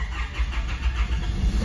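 A diesel engine with its glow plug heater wired directly cranks and catches almost at once, running with a loud, steady, rough low rumble throughout.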